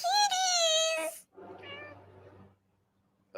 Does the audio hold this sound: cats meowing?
yes